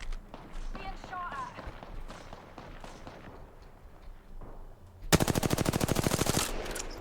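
A rapid burst of automatic gunfire rattles out late in a match of the video game Apex Legends, loud and close, after a stretch of footsteps, movement and a voice talking.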